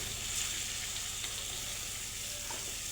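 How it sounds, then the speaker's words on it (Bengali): Pumpkin slices sauté in a pan with a faint, continuous hiss and crackle. A low hum runs underneath, and there is no talking. "তারপরে দিয়ে দিলাম সেই মিষ্টি কুমড়ার ফালিগুলা"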